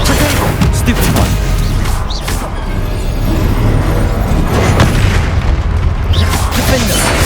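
Continuous booming spell blasts from the fire-casting Confringo curse during combat in the video game Hogwarts Legacy, loud and dense throughout with repeated impacts over a rumbling battle mix and voices.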